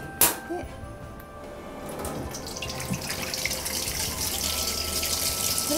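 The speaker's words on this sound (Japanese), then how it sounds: "で軽く水洗いします。" Running tap water rinsing horsetail leaves, a steady close stream splashing into a sink after a brief knock at the start, growing slightly fuller.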